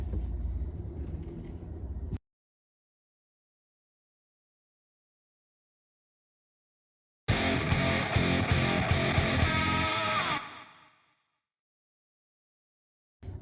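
A car rolling along a road: a steady close engine and tyre rumble at the start, then a gap of silence before the drive noise returns, loud and full with rattly highs, and fades away at the end.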